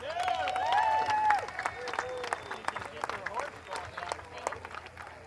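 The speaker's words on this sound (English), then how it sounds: "Let's give her a round of applause." Crowd applause along a Fourth of July Frontier Days parade route in Willits, scattered claps and cheers under a nearby announcer's voice, moderately loud throughout.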